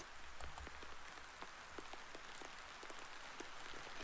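Steady rain falls on surfaces around a bench under a stormy grey sky, a soft continuous hiss dotted with scattered drop patters, quiet and even throughout.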